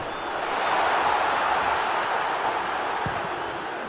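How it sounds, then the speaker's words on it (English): Stadium crowd in an eFootball PES 21 match with Barcelona, a steady broad roar of cheering and urging that swells slightly and holds throughout, loud and continuous with no commentary over it. "Crowd calling for him to shoot!"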